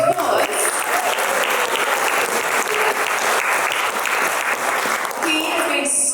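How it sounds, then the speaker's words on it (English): A gathered audience at a 40th birthday celebration gives a brisk round of applause, steady dense clapping throughout with a voice audible briefly at the start and end. "can we just give him a quick clap"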